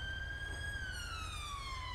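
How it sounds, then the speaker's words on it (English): A police vehicle siren wails continuously on a London patrol, its tone gliding slowly downward, heard fairly close and alone without talk. "cut the siren, please."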